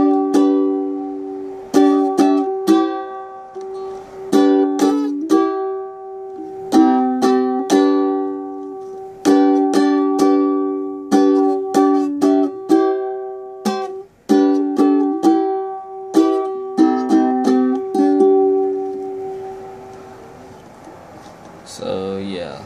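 Plucked and strummed ukulele playing a piece, bright clean chords in a steady repeating rhythm of short bursts and ringing notes, close and solo.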